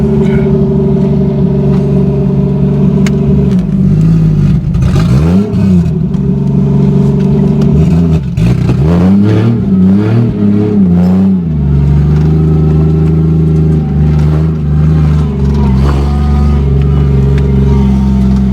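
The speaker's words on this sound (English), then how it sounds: "We're driving, backing out the driveway." A 1987 Toyota Supra with a swapped 2JZ engine idles and revs loudly up close while backing out of a driveway, its pitch rising and falling through several throttle blips before settling to a steady drone.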